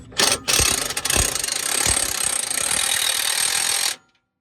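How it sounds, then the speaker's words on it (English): Impact wrench driving a bolt through a billet vertical arm mount on a Ford Explorer ST, a brief rattle then a sustained loud close hammering whir for about three and a half seconds before stopping. "that bolt should find its way right through here when you impact it"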